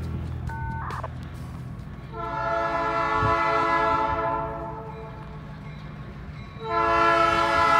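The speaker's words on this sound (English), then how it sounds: "here comes the train" A Cincinnati Eastern short line train passes through downtown Sardinia, its horn sounding in long sustained blasts that swell, fade and return over rumbling wheels, loud and close.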